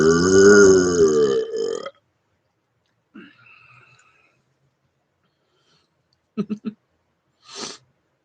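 A long, loud, resonant burp with a strongly tonal, droning pitch lasting nearly two seconds, followed by a faint short vocal sound, a quick cluster of three clipped bursts, and a brief breathy exhale.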